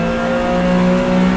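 A Porsche 911 Carrera RSR 3.0 in Assetto Corsa held at full throttle in third gear, giving a loud, steady engine drone with strong sustained harmonics and no breaks.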